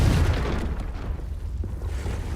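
Confringo explosive spell blast in Hogwarts Legacy, a loud low boom right at the start that rolls into a sustained rumbling roar, fading slightly over a couple of seconds with no voices.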